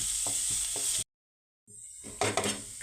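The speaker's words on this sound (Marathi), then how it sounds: "कांदा इथे आपल्याला कलर बदलेपर्यंत परतून घ्यायचा आहे" Chopped onion frying in a spoonful of oil, a bright steady sizzle with soft stirring scrapes, cutting out briefly to silence before the frying hiss returns with louder clatters of a spoon against the pan.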